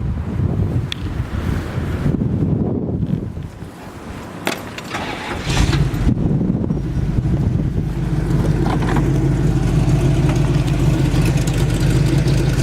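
A 1962 Chevrolet Corvette roadster with a 350 V8 rated at 300 hp and HEI ignition cranks and catches about halfway through, then settles into a steady, loud, rumbling idle after some earlier rustling and wind noise.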